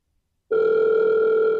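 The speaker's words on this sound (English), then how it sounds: "Pick up the phone." A telephone sounds a steady, loud electronic tone that starts abruptly after a short silence and holds unbroken to the end, with no talking over it.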